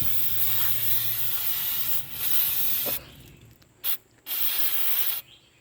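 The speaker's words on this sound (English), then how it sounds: "I'm going to clean the hub face right here with brake cleaner" Hissing aerosol brake cleaner sprayed onto a BMW E36 wheel hub face in several bursts, a long steady blast followed by shorter sprays with brief pauses, close by.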